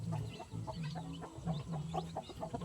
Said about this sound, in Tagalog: Marami kaming manok ngayon mga kasinag na naglilimlim.